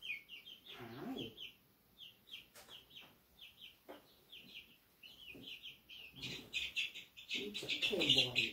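Young chicks in a new enclosure chirp in quick, high repeated peeps, with some clucking and pecking-order squabbles, while a person talks softly nearby.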